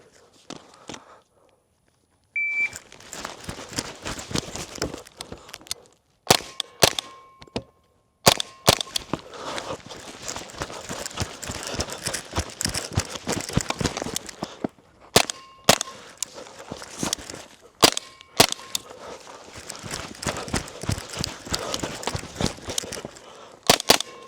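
Repeated sharp shots from a Stribog SP45A3 pistol-caliber carbine firing subsonic ammunition, in strings of closely spaced cracks with pauses between, loud and near, with a shot timer beep near the start.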